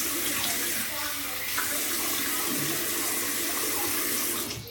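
Cold water runs from a tap for a wet shave, pouring in a loud, steady, close splashing rush that continues without a break throughout.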